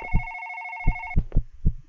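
A phone rings in the horror video game One Late Night, with a steady electronic two-tone trill lasting about a second before it cuts off. Low, heavy thuds follow in a slow, heartbeat-like rhythm.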